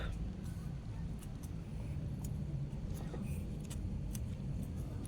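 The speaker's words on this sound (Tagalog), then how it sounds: "Sasakyan." A car engine and road rumble from a Walking Dead game scene, a steady low drone throughout with faint clinks on top.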